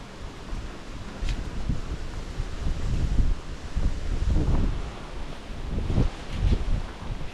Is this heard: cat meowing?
no